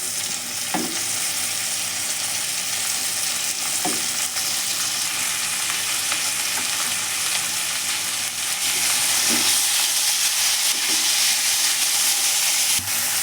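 Chopped tomatoes sizzle and fry in a pan for egg rice, a steady close hiss broken by a few scraping stirs, with no talking.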